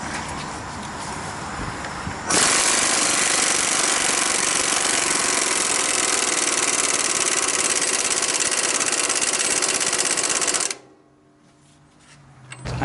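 Impact wrench driving a 27mm bolt while installing a front leveling kit on a Ford F-150, a loud continuous hammering rattle close by for about eight seconds before cutting off, with softer mechanical noise before and after.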